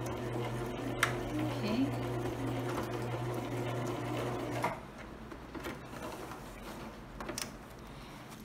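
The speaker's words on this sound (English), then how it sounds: "I'm going to continue to sew and then back stitch" A sewing machine stitches and back-stitches a lined zipper pouch at close range with a steady motor whir, stopping partway before lighter clicks and handling noises, while a voice speaks briefly.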